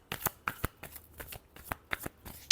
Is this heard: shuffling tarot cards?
yes